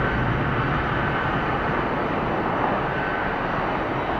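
A SkyTeam airliner taking off and climbing out of Atlanta Hartsfield airport, a loud sustained jet engine roar with broad rumble, steady and close throughout.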